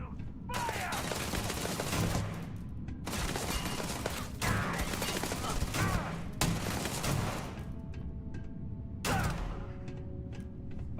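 Sustained gunfire in the video game Starfield, long stretches of dense, rapid shots broken by brief pauses, loud and close with clattering mechanical action.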